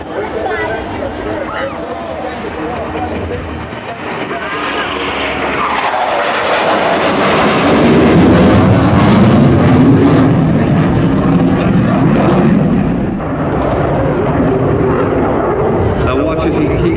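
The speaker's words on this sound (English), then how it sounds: "From the rear, the Royal Air Force," A Royal Air Force Typhoon jet passes in a flypast at the International Ayr Show, its loud roar building and sweeping overhead before easing away, with an announcer talking over it.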